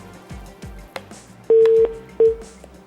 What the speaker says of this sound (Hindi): ओहो, कॉल ड्रॉप हो गई है।